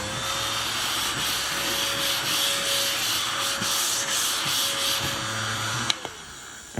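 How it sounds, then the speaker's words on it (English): A small USB-rechargeable handheld vacuum cleaner runs over a tabletop with a steady whirring hiss and scraping as it moves across the surface, close and moderately loud, then switches off with a click near the end. "vacuum cleaner that you charge via USB"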